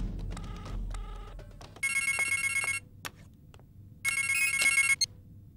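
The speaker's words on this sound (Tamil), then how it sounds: "ரிங் போயிட்டு இருக்கேன்" During an outgoing call in a Tamil film, a telephone ring tone sounds in two long, evenly spaced bursts, fairly quiet, with a brief soft murmur before the first ring.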